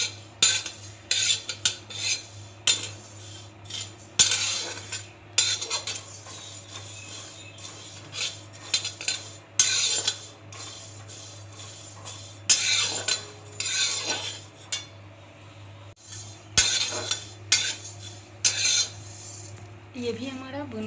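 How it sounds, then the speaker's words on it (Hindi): Cumin seeds are dry-roasted in a pan for a traditional mango pickle while a metal spoon scrapes and stirs them, giving irregular clinking and scraping strokes over a steady low background hum. "जीरा को भी अच्छा इस महकाने तक भूनेंगे।"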